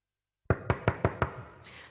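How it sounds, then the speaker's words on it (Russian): Five sharp knocks on a door in a quick even rhythm, close and loud against a silent background, followed by a faint rustle. "Стук в дверь заставил ее вздрогнуть."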